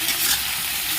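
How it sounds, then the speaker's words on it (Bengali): Chopped tomato and onion sautéing with salt in a pan for spicy chicken pasta, a steady close hiss and sizzle with faint stirring scrapes. "লবণটা দেওয়ার ফলে টমেটো আর পেঁয়াজ এগুলো তাড়াতাড়ি নরম হয়ে যাবে। ভালো করে একটু কষিয়ে নিচ্ছি।"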